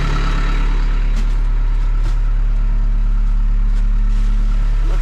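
A D51 bulldozer's diesel engine runs loud and close with a steady throbbing idle as the machine prepares to back off a trailer.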